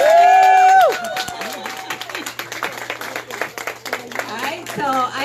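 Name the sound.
audience applause at a fundraiser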